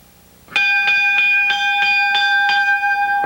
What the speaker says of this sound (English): Bell signifying we have one participant in there, but not 2.